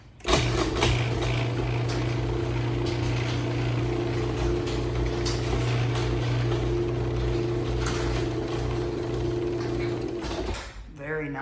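A LiftMaster 3575K Estate Series garage door opener runs on a 16x7 door, a steady droning motor hum with mechanical rattle for about ten seconds, then stops abruptly with a clunk.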